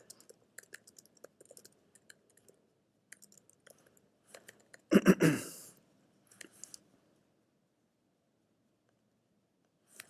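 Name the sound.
computer keyboard typing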